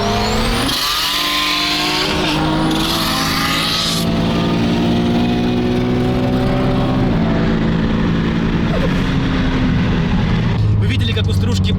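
A BMW E21, a Toyota MR2 and an Infiniti Q60 Red Sport race from a rolling start at 60 km/h. Engines roar loudly and climb through rising revs with repeated gear shifts, close and continuous, while voices talk over them.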